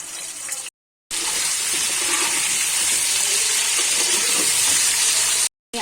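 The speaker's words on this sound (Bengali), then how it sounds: "এবার আমি আলুগুলোকে ভেজে নেব।" Potatoes frying in oil in a wok, a steady loud hiss and sizzle running throughout, with two brief silent breaks.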